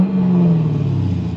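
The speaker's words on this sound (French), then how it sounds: "Donc là, ça va être démarrage du V8." A Chevrolet Camaro SS with an LS3 V8 rumbles right after starting, a loud, steady low engine drone with a brief rising rev at the start, close by and with no talking.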